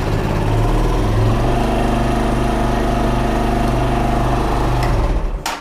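Kawasaki KLX 125 supermoto motorcycle idling steadily close by, a constant single-cylinder engine drone with no speech, cutting off abruptly at the end.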